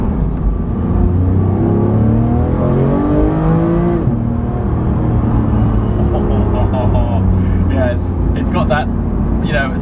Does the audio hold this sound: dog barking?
no